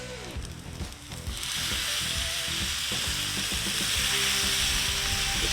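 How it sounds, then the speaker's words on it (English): Burger patties for a patty melt hit a hot griddle; after a second of quieter cooking, a loud, broad sizzle jumps up and holds steady and close with no talking. "Okay, now we're going to get our patties on."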